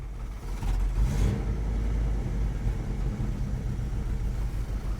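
A 1973 Dodge D100 pickup engine idles with the choke on, running rich and loading up: a steady, close, low rumble with slight surges and no talk over it.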